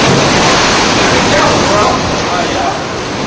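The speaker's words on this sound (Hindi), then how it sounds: "सैंडी का साइड इफेक्ट, समंदर में ऊंची लहरें।" Loud, continuous roar of crashing surf from high ocean waves driven by Hurricane Sandy, a dense wash of turbulent water that stays steady throughout.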